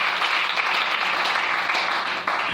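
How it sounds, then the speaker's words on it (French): A church congregation applauding and cheering to acclaim the Lord, a dense, loud burst of clapping that fills the room without pause. "Est-ce qu'on va acclamer le Seigneur?"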